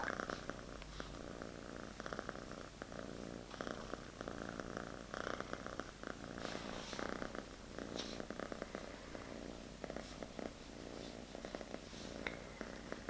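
A kitten purrs softly and continuously in a quiet indoor setting, a faint, close rhythmic rumble with no talking.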